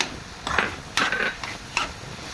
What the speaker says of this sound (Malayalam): ടൊമാറ്റോ സോസ് ആഡ് ചെയ്ത് നന്നായിട്ടിത് മിക്സ് ചെയ്തെടുക്കണം